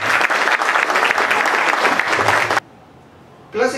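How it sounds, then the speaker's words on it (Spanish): Audience at a swearing-in ceremony claps loudly and steadily, then the applause cuts off abruptly into near silence before noise returns at the very end. "aplausos, por favor"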